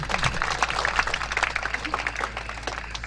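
A room of people breaks into sustained applause for Kak Abidin at a talk on Islamic preaching and national identity: dense, steady clapping at moderate volume that carries on evenly throughout.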